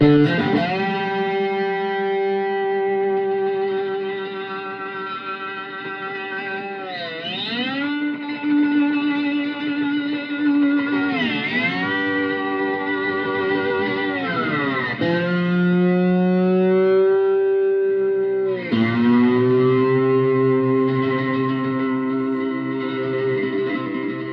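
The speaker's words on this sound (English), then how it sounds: "Here is the lead distortion channel, the maximum distortion." Electric guitar through a Roland Cube 10GX amp on the lead channel at maximum distortion, playing loud sustained notes with slides and bends between held tones, up close with no talking.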